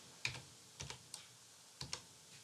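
Quiet clicks of a computer keyboard while a formula is typed into an Excel spreadsheet, five or six short key taps in two loose clusters, close and soft with no talking.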